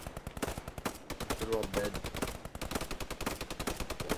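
Rapid, dense gunfire in the video game Post Scriptum, with overlapping bursts of shots crackling steadily throughout. A brief spoken remark is heard under the shooting.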